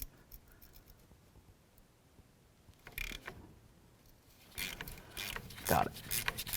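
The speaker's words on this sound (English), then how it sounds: "The next thing I want to do is remove this bolt right here" A frozen bolt being worked out of the front upper control arm on a 2005–2015 Toyota Tacoma, with scraping metallic grinding and ratcheting in short close bursts, louder toward the end, and no voices over it.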